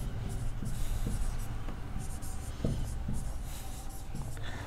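Pen or marker writing a table heading for a blood group frequency table, a steady scratchy stroke sound with soft taps, close and continuous, over room noise.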